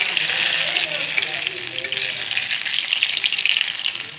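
Chaka bhaji fries in a pan with a dense, close, continuous sizzle that stays fairly loud throughout and eases slightly toward the end.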